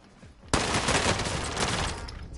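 Sustained gunfire in a PS4 shooter video game erupts suddenly and keeps going as a loud, dense volley of rapid shots for about two seconds.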